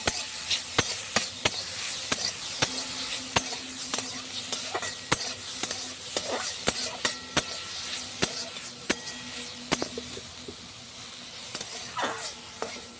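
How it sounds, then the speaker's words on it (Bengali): Shrimp frying lightly in oil in a pan over a clay stove, a steady soft sizzle broken by frequent sharp clicks and scrapes of stirring, fairly quiet and close. "বেশি ভাজলে শক্ত হয়ে যায় চিংড়ি মাছগুলো, এই জন্য বেশি ভাজবো না, অল্প একটু ভেজে নেবো"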